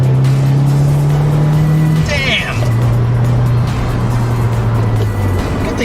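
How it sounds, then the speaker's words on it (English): A 2017 Subaru WRX Limited with a modified exhaust pulls hard, engine note climbing steadily and then rising again after a shift, loud and close. A voice cuts in briefly with an exclamation. "And now with these mods, I can actually hear the exhaust"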